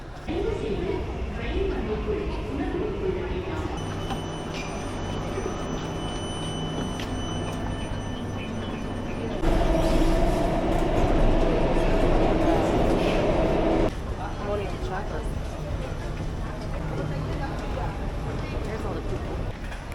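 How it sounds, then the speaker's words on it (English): A continuous rumble of a Singapore MRT subway train in motion toward Harbourfront, with a louder surge partway through and voices talking over the steady rail noise. "We just took the MRT train 2 stations to Harbourfront"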